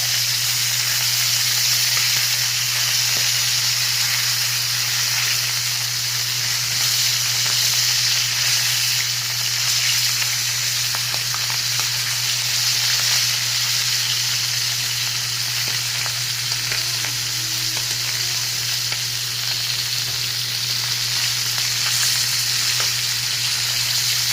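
Skipjack tuna fries in hot oil with a loud, steady sizzling hiss and faint crackles, heard up close and continuous with no talk.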